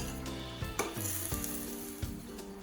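Vegetables for sambar sizzle and fry in a pan, a steady crackling hiss broken by a few stirring clanks and scrapes, close and fairly quiet, with no talking.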